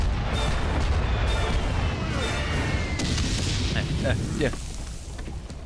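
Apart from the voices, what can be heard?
cannon fire in Valiant Hearts video game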